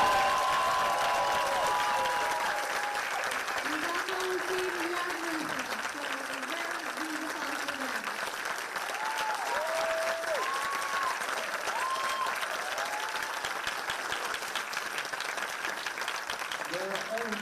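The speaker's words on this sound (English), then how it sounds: "I would really like if you gave them a huge round of applause." A festival audience at a closing ceremony gives the team a long, sustained round of applause, dense steady clapping filling the hall throughout with crowd noise mixed in.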